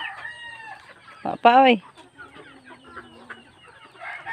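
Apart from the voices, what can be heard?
chickens clucking and crowing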